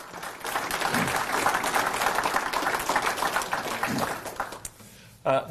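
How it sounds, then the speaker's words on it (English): Sustained applause from a crowd at a state swimming awards evening, a dense, steady wash of clapping for about five seconds before it dies away. "just a round of applause to all of our parents who help our swimmers"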